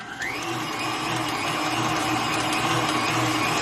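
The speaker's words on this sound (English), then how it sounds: "So I'm going to turn my blender up again." A blender whirs steadily at high speed mixing pound cake batter, a constant motor drone with a brief rising spin-up at the start.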